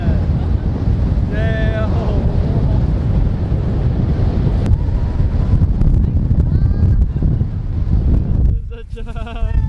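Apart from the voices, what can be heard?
strong wind blowing on an island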